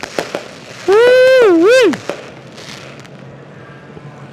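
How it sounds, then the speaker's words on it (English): Fireworks at a speedway pop and crack in scattered bursts, fairly near, while a voice lets out a loud, sliding whoop over them. "Longest fireworks show I've seen, not in the month of July."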